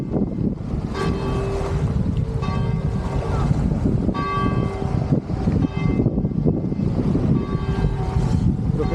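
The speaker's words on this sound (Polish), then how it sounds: "Z kościoła słychać dzwony." Church bells toll in the distance, clear repeated strokes over a steady rush of wind buffeting the microphone, at a campsite by Lake Garda.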